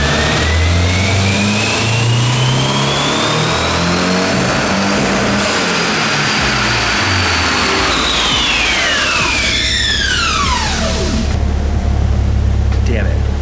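Turbocharged SR20DET engine in a Nissan Silvia revving hard on a dyno at up to 15 PSI of boost, a loud rising engine roar with climbing turbo whine that sweeps up, then drops off sharply as the throttle closes.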